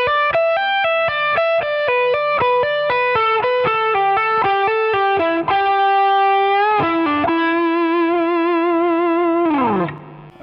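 Distorted electric guitar plays a rock lick of quick picked notes that settle into sustained, wavering bends and vibrato before a closing slide, loud and close with no talking.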